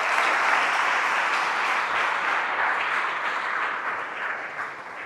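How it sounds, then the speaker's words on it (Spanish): A church congregation applauds during a live service in Badajoz: sustained, full clapping from many hands, steady at first and easing slightly toward the end, with no speech over it. "Damos un aplauso al que ha resucitado"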